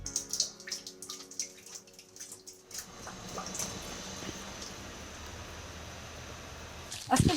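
Spring water flows from a local spring outlet into containers, a steady rushing stream running beneath nearby speech, with splashes and drips heard before it settles into a continuous pour.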